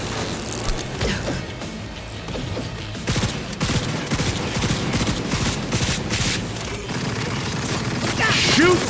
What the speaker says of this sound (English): Shoot one more time!